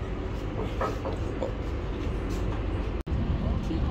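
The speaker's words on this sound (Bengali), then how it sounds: "অলরেডি আমাদের ট্রেন ছেড়ে দিছে।" A Chinese passenger train pulls out of the station on the Guangzhou to Shenzhen run, heard from inside as a steady low rumble and rolling hum with one brief dropout, no talk.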